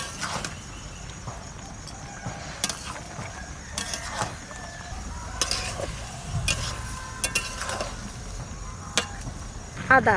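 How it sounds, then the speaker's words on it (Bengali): Mutton is stirred in a pan for dhaba-style mutton kosha, giving a continuous low sizzle with scraping and clattering strokes of a spoon throughout. "এটা একটু নাড়াচাড়া দিতে হবে"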